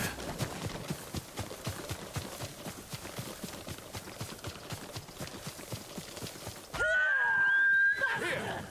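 Horse hooves clip-clopping at a steady trot in the Ghost of Tsushima video game, a long even run of hoofbeats that cuts off abruptly into a loud, sustained cry or whinny near the end.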